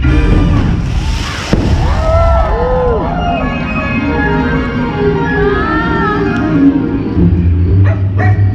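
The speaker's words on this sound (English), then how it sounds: "Hey, look, a dog. It's a ghost dog." A ghost dog effect at a Halloween show at Magic Kingdom, Walt Disney World: whimpering, yipping calls rise and fall over a layer of show music and crowd ambience, with a sharp bang near the start.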